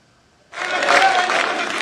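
Applause from members at a BJP parliamentary party meeting welcoming Prime Minister Narendra Modi, bursting in abruptly after a quiet start and holding as a dense, loud wash of clapping.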